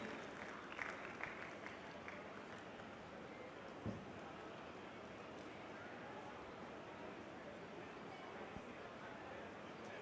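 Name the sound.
audience applause at esports grand finals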